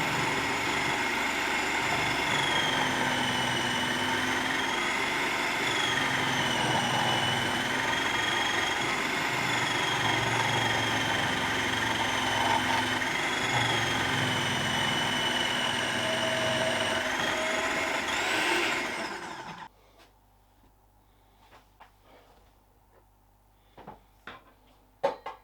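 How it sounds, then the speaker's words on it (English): A food processor grates summer squash with a loud, steady churning whir for about twenty seconds, then stops abruptly, leaving a quiet room with a few faint clicks and knocks. "this time I'm using my food processor for grating"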